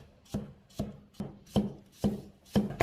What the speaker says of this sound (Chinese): 先切成片